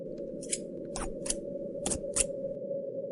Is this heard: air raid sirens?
no